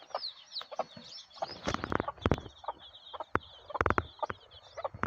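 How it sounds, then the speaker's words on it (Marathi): A frightened chicken clucks in quick, sharp, fairly faint bursts, with squawky calls and scattered rustling and knocks nearby in a quiet village setting. "कोंबडी घाबरायला लागली"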